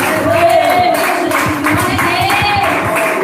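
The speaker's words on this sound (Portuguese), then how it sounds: "Então nós vamos receber ela com palmas bem fortes para Jesus." A church congregation claps loudly and continuously for a woman stepping up to give her testimony, with a voice speaking over the steady applause.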